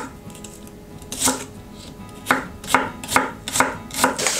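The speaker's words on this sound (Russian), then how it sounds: "быстренько нарежем лук. 2-3 луковицы, в зависимости от размера, нужно нарезать на полукольца или на перья." A knife chops onions into half rings on a cutting board. A few isolated cuts come first, then a run of crisp, evenly spaced strokes close to the microphone. No voices are heard.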